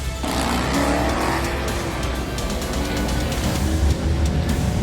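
A nitrous-fed drag racing car roars loud and steady down the strip, a dense, continuous engine drone with some rising tonal sweeps, close and sustained for the whole stretch with no talk.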